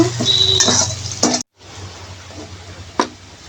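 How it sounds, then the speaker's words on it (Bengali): Chopped garlic and onion fry in a pan for rooster-chicken khichuri, a steady close sizzle with scraping stirs and light utensil clinks, broken by a brief silence before the frying resumes more quietly. "কুচি রসুন কুচি কিছুক্ষণ নেড়ে চেড়ে হালকা বাদামি কালার করে বেজে নিব"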